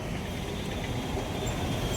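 A Surat metro train on its first trial run passes close by with a continuous loud rumble of wheels on rails and a faint high squeal.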